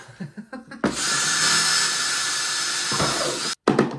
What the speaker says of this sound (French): Donc, j'ai fait 3 petits trous.